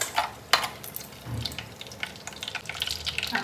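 Two bay leaves crackle and sizzle in hot oil for a mushroom masala, with irregular pops and spits close up and no talking.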